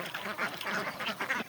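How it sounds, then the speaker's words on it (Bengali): Ducks feeding on spinach leaves give a short burst of nearby quacking, several repeated calls in quick succession at moderate volume. "অনেক সুন্দর করে পালং শাকগুলো হাঁস খাচ্ছে"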